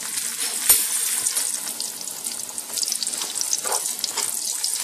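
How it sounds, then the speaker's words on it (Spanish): Tortillas fry in hot oil in a pan, giving a close, steady hissing sizzle with crackles and an occasional sharp pop, continuous and without talk. "vamos a preparar un sartén con aceite para guisar las tortillas"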